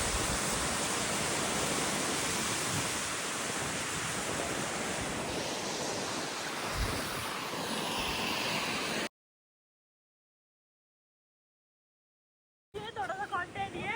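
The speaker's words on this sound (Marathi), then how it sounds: "नदी आहे इकडे धबधबा आहे छोटे छोटे" Loud, continuous rushing of a river and small waterfalls near Mahabaleshwar, then sudden silence, followed by a brief return of noisy sound.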